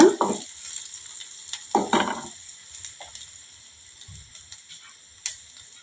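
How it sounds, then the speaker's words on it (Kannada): Curry leaves frying in a pan for North Karnataka peanut chutney: a couple of bursts of crackling sizzle near the start, then quieter stirring and occasional light clicks against a faint steady background hiss. "ಕರಿಬೇವು ಹಾಕ್ತೀನಿ ಈಗ ಇದು ಮಸ್ತ್ ಫ್ರೈ ಆತ"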